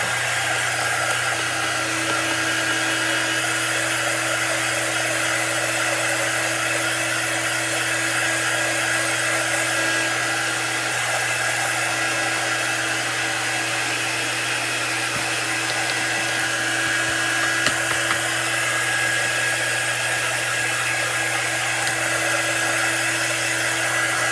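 A hair dryer blows steadily on freshly chalked artwork, a loud, continuous whirring drone with a low hum that runs unbroken and alone throughout.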